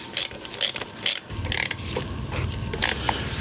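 Ratcheting clicks come in a few quick bursts as a spring compressor is screwed down to its stop, close and mechanical, followed by steadier grinding turns.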